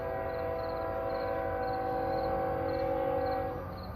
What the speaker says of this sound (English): We got that loud train in the background